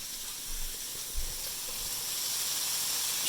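Pasta is shaken into a pan with plenty of garlic, setting off a steady bright hiss and sizzle that swells slightly toward the end, with soft low bumps early on and no talking.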